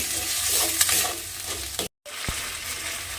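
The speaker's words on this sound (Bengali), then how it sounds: "দিয়ে এবারে মশলাটাকে আমি খুব ভালোভাবে একটু কষিয়ে নেব।" Spice paste with a little sugar being stir-fried in a pan for a yogurt egg curry, a loud close sizzle broken by spoon scrapes, with a brief full silence near the middle, no talking.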